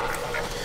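Ducks on a farm give a brief burst of quacking, moderately loud and close, cut short after a fraction of a second.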